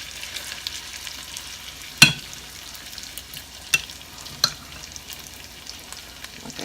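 Potato pancakes fry in a pan with a soft, steady sizzle, broken by three sharp clinks or spatula taps at irregular moments.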